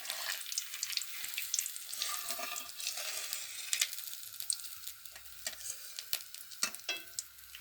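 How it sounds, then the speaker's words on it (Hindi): Grated carrot frying in very hot ghee for carrot halwa, a steady close crackling sizzle with occasional stirring scrapes, no voices. "गाजर डालबै। घी एकदम से गरम भऽ गेल।"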